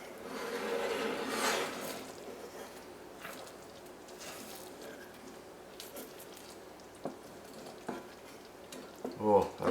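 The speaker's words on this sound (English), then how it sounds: "And then we just gently stir." Gentle stirring of a chocolate cake mixture with salted butter in a pot, soft scraping and rubbing swirls that fade to quiet, with a few light clicks and bumps near the end.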